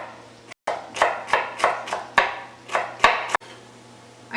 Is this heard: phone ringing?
no